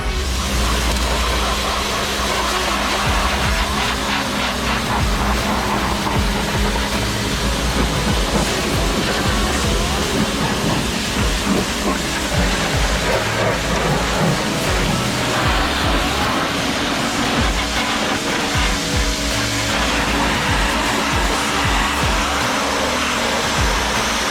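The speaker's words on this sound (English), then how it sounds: "Bought a new compressor and it's got like 2 gallons of air." A new small air compressor with a two-gallon tank runs continuously up close, giving a loud, steady motor drone with rattling throughout.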